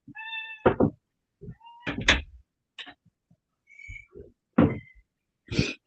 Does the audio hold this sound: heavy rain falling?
no